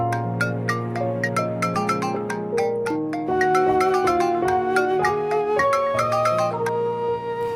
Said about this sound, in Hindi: सोहा, तुम्हारा फोन बज रहा है।